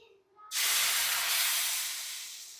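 Thin, watery rice batter poured onto a hot pan for Andhra-style neer dosa sets off a sudden loud, broad hiss that starts abruptly and sizzles steadily close by, fading slightly toward the end with no talking.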